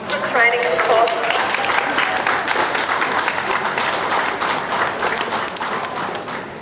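Spectators at the NSW Mounted Police open day clap for a horseback drill display, with broad, continuous crowd applause carrying steadily throughout. A brief voice rises near the start.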